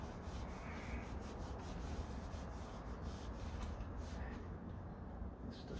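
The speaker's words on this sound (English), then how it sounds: "I'm just gonna wipe it down and get in those areas that could before." Rag rubs rust and grime off the oil pan area of a 1969 Corvette, a faint, steady scrubbing swish with rhythmic strokes throughout.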